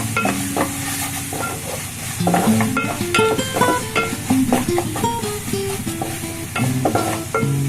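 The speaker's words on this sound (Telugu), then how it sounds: "ఒక్క నిమిషం అయినా కలిసేలా నూనెలో బాగా వేయించాలి" Chili powder frying in oil for a field bean curry, a steady sizzle under frequent clattering stirs and ringing spoon knocks on the pan.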